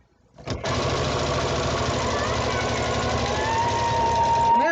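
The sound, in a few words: sewing machine stitching a fabric tube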